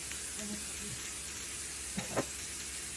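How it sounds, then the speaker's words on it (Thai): Ingredients for Thai basil stir-fry sizzle in a pan, giving a steady hiss under a faint voice, with a couple of soft clinks of the spatula near the end. "ตอนนี้ก็ผัดไปเรื่อย ๆ ก่อน"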